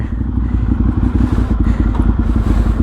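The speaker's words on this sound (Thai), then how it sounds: "เสียงเนี่ย ของท่อเทอร์มิตเนี่ยเรียกได้ว่า นิ่ม สบายหูนะครับ" A Ducati Monster 796 engine with a Termignoni exhaust idles steadily nearby with a deep, soft, rumbling exhaust burble and light mechanical clatter.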